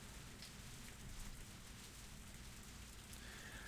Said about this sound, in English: I heard the sound of rain pattering on the rooftop and the raindrops jumping into puddles.